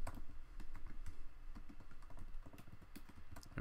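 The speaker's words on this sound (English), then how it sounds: "So I'm just going to type this manually." Rapid, steady typing on a computer keyboard as a password is entered, with close, crisp key clicks in an irregular rhythm and no talking.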